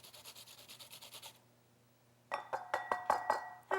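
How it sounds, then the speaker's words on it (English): An onion grated on the large holes of a box grater over a bowl gives a run of even rasping strokes, then a pause, then louder and brisker scraping strokes close by. "Use the bigger holes on the box grater and just grate your onion down in there."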